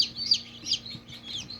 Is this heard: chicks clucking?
yes